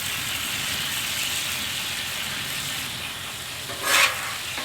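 Dove meat fries in a pan over low heat with a steady, bright sizzle and crackle, fairly close, and briefly flares louder near the end.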